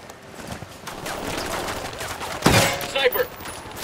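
Gunfire in the video game Ghost Recon Wildlands during a firefight at a prison village camp entrance, a dense run of rapid shots with a sharp, louder burst near the middle and a few more cracks after it.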